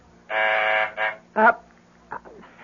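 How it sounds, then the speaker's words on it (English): An apartment intercom phone buzzer rings from downstairs in a radio drama: one long harsh electric buzz, then a shorter one and a brief third burst, loud and close, followed by faint quieter sounds. "That's the phone buzzer from downstairs,"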